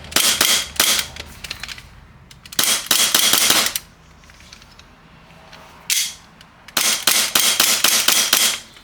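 An EMG TTI Pit Viper Hi-Capa airsoft pistol fires through a chronograph in rapid bursts of sharp, close cracks, a quick run of shots, a pause, a single shot, then another fast string.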